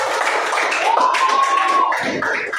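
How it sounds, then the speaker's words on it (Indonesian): Classroom students clapping for a classmate after a computational thinking exercise, a quick burst of close hand claps with a brief whistle-like tone in the middle and some background chatter. "tepuk tangan buat Kenzi."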